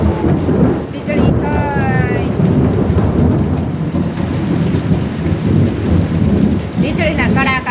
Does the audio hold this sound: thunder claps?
yes